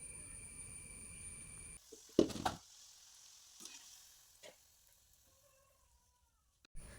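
A soft puri fries in hot oil, giving a steady bubbling hiss for a couple of seconds. It then cuts out, leaving a few light clatters and near silence.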